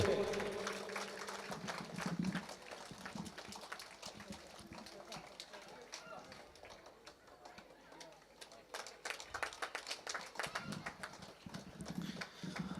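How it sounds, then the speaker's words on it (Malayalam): Audience clapping at a 107th school anniversary celebration at Pallyam LP School in Kannur, a scattered rhythmic patter that swells at the start, thins in the middle and picks up again near the end. "എല്ലാവരും നല്ലൊരു കയ്യടി കൊടുക്ക്"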